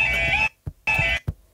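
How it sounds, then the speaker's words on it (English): Level crossing alarms sounding at a rail crossing on a town high street, two loud shrill tones each followed by a short low knock, in a steady repeating cycle. "You can hear the alarms going off."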